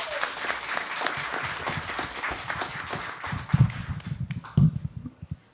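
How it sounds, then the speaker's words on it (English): Audience applause at a Black History Month panel discussion in Norfolk, Virginia: sustained, fairly close clapping from a crowd that thins out toward the end, with a few louder claps and shuffles. "Could we give another round of applause, please?"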